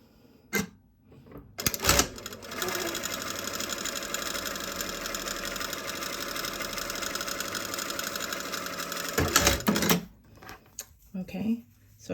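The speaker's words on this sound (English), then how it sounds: "I'm going to pin stitch down here." A sewing machine stitches down a bias-bound seam in one steady, continuous run of about seven seconds, loud and close, with brief handling noises before and after.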